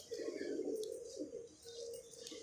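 Soft, low pigeon cooing close by, a rolling murmur that dips and resumes, with faint background noise.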